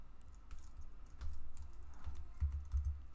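Soft keystrokes on an old Mac keyboard running Mac OS 8 tap out a few quick clusters of presses, quiet and close, with no talking.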